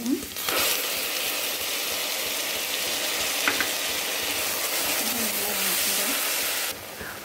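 Spices and onions frying in hot oil for mutton gravy, a steady bright sizzle that holds close and loud throughout, with a faint voice briefly underneath.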